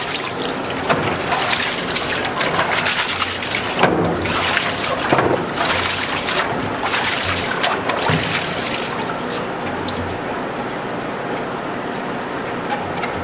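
Running water rinses a chocolate mould, a loud, continuous splashing stream with shifting gurgles as the mould is moved under the flow.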